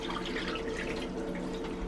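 Plain water pours steadily into a hot cast iron pan on high heat, a continuous hissing, bubbling wash of liquid heard up close and alone for under two seconds.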